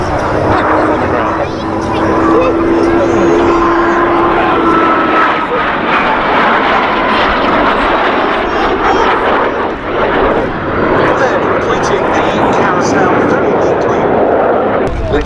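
A BAC Strikemaster jet in Omani colours roars through a flying display at Duxford Air Festival, its engine a loud, sustained whine and rumble over fifteen seconds while a commentator talks throughout.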